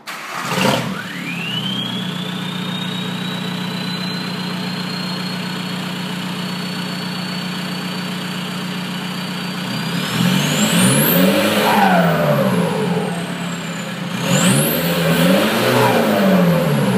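A 2002 VW Golf TDI diesel with a straight pipe starts with a quick crank, drops into a loud, steady idle with a rising whine, then revs hard twice, close and unaccompanied by voices.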